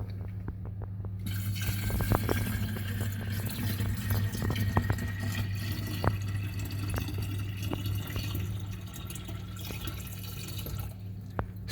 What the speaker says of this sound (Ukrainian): необхідно додати 1 літр води, водопроводної звичайної води